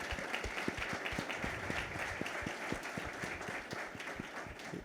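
An audience at a business and economy panel at ExpoSuper 2025 breaks into steady, dense applause that continues for several seconds, many hands clapping at moderate distance.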